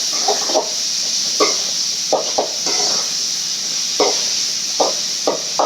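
Food sautéing in a pan, a steady hiss of sizzling with repeated scraping and stirring knocks of a utensil at irregular intervals, close and without talk.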